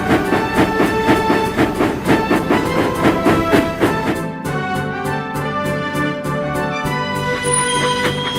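Railway engine running along the line with rhythmic chugging and clattering, loud and close, shifting partway through to a steadier beat with music-like tones layered over it.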